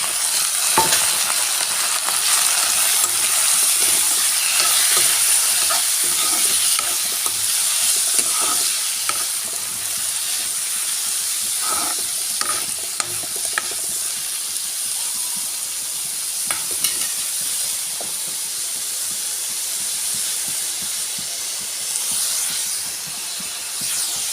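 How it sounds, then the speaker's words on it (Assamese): Dal frying in a hot pan, a steady bright sizzle and hiss with occasional stirring scrapes and small pops, continuous and fairly close throughout. "এতিয়া ইয়াত দিম দাইলখিনি।"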